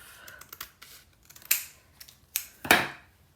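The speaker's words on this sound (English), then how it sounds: "And we might cut another in half." Scissors snip through paper for a craft flower project, a handful of crisp separate cuts at close range, with two louder sharp snips near the end and no talking.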